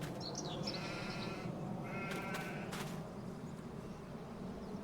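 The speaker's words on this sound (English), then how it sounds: "Yep, there's the little goat." A goat bleating in the farming video game Farming Simulator 25: a couple of short, nasal bleats from a farm animal over a steady low background hum, faint and somewhat distant.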